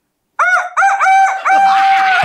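A voice imitates a rooster crowing, giving three short cock-a-doodle-doo calls followed by a longer drawn-out crow, loud and close with no other sound.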